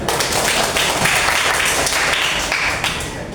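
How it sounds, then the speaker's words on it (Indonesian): A classroom group claps together at the close of a teacher's talk, dense, steady applause that is fairly loud and sustained, tapering slightly near the end. "Kita tepuk tangan kita semua."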